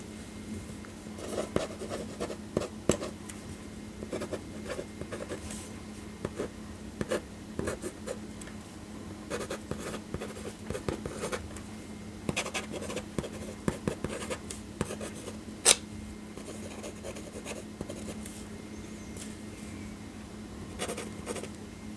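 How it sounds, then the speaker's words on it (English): Pen scratching across paper through a chemistry study session, a steady run of close, dry strokes and scribbles with small taps, alone and quiet. "So let me just write down the reaction as it occurs."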